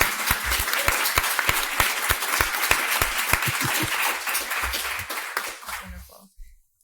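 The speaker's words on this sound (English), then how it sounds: "how about a round of applause for Kristen and her team?" An audience at a Georgetown congressional oversight event applauds in a steady burst of many hands clapping, sustained for several seconds before fading out to a few last claps.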